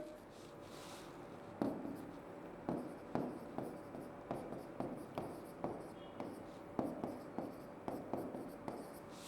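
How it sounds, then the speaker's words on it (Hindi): A chemical reaction for the Lucas test on alcohols is written out by hand in a chemistry lesson: a quiet run of short, rhythmic scratching strokes, close by, with no voice over them. "तुम रिएक्शन लिख सकते हो ऐसे"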